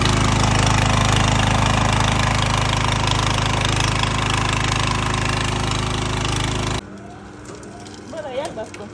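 A generator engine for a roadside sugarcane juice machine runs loud and steady with a dense, rough drone for nearly seven seconds, then cuts out abruptly, leaving quieter background noise.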